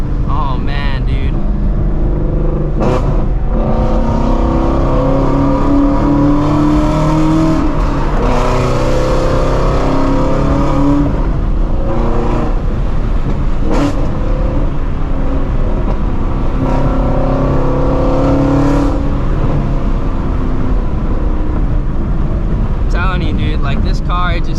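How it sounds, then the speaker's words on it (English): Shelby GT350 Mustang engine revving loudly from inside the cabin, a deep continuous roar with rising and falling pitch, sharp throttle blips and surges, while people talk over it. "this car, it sounds incredible"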